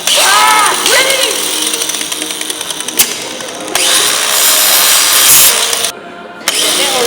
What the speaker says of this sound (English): Why use a knife when you can use an angle grinder? And cut everything out.